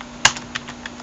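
A few sparse keyboard key clicks, about four taps spaced irregularly, close and fairly quiet with a faint steady hum underneath.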